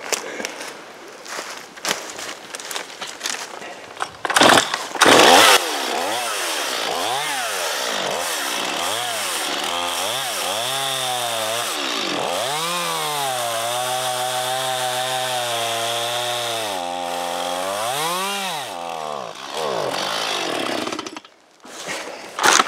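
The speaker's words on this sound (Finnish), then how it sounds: "Tältä puolelta pitää vielä sahata, ennen kuin rupeaa vetämään." A chainsaw cuts through a yard tree being felled, its engine loud and close, revving up and down in repeated surges through a long continuous cut.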